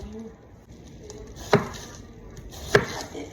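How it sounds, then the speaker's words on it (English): A sharp kitchen knife chopping cabbage on a board in a home kitchen, two distinct chops about a second apart over quiet room noise. "You don't have to finely chop it, but I mean, decently chop it."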